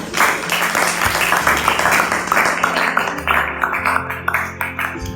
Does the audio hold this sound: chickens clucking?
no